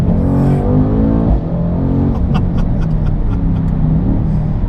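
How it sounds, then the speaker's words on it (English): A 2019 Mercedes-AMG C63 S V8 engine revs and rumbles loudly up close, a deep throaty roar rising and settling with crackling bursts. "It's got an amazing V8. Oh, I love it."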